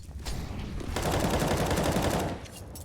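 Blind-fired gunfire in a Counter-Strike match on the Ancient map: a dense, continuous rattle of rapid automatic shots lasting a couple of seconds, fairly close and steady.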